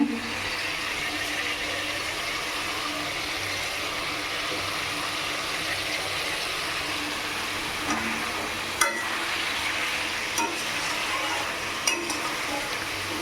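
Cauliflower and small koi fish curry sautés in a pan, a soft continuous sizzle with occasional faint spatula clicks, close but subdued, no one speaking.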